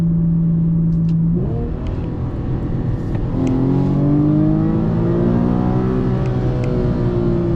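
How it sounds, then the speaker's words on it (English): An Infiniti engine revs hard in manual mode toward redline near 7,600 RPM without an upshift. The pitch climbs steadily and loudly after a brief lower idle-like drone. "I'm going to show y'all what happens if you don't upshift by the time you hit red line"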